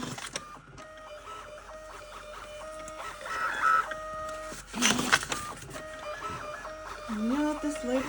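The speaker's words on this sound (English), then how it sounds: "This label printer is fine, but I wish it had labels this correct size for these Norwegian post labels" A label printer prints Norwegian post labels with mechanical whirring and clicking feed noises that run in short bursts, close and moderately loud, in a quiet room.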